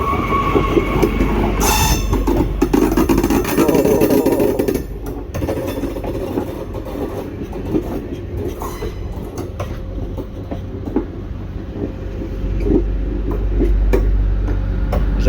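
A TGV rolls along the rails at Quimper station, close and loud, with clattering wheels and metallic squeals over a steady rumble.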